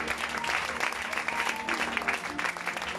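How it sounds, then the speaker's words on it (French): A church congregation claps and cheers in steady, dense applause that fills the room without a break. "On peut acclamer le Seigneur pour lui."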